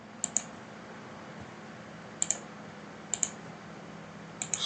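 A computer mouse clicks in pairs while drafting in Autodesk Revit, with four quick sharp double clicks spread over a few seconds above a low steady hum, close and fairly quiet, and no talk.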